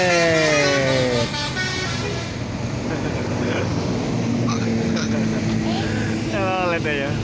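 An ANS bus from West Sumatra sounds its telolet musical air horn outside a bus depot in Palembang: several melodic stepped horn tones, loud and close, with traffic noise and a voice talking over them, and another burst near the end.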